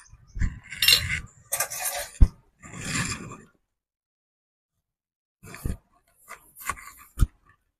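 A spoon stirs pulao (pilaf) in a pot, producing scraping rustles and sharp metallic knocks against the rim. These come in several distinct bursts with a silent gap in the middle, close and moderately loud.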